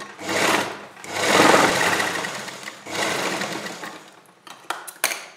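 Sewing machine running in bursts while stitching the lining of a long umbrella Anarkali kurti gown, three sustained whirring runs with brief pauses between, loud and close, ending with a few sharp clicks.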